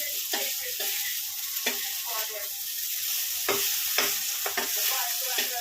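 Mixed vegetable bhaji frying in a pan on a gas stove, a steady close sizzle broken by repeated sharp scrapes and clinks of a spatula stirring against the metal at irregular intervals.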